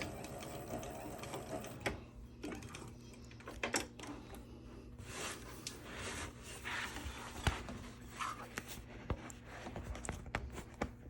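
A sewing machine runs steadily while top stitching a bag on a Cobra Class 26 with size 20 needle and Tex 100 thread, a faint continuous mechanical hum with small clicks and thumps, no talk.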